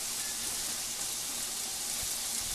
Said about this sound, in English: these are sizzling away